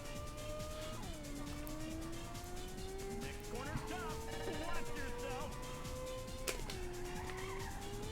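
A racing car drifting in the Ridge Racer video game: a steady engine whine drops and climbs through gear changes while a long tire squeal runs through the slide, all loud and continuous over game music.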